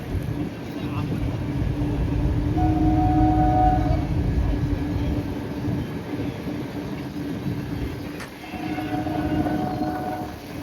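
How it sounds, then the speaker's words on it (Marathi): A train rolls in with a loud, steady rumble of wheels and carriages, a couple of brief horn-like tones sounding over it, and people talking nearby. "आली ट्रेन आली वा."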